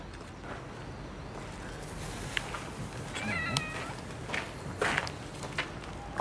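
A cat meows several times, a few short distinct calls rising over a noisy background with footsteps and light shuffling, fairly close, with no talking.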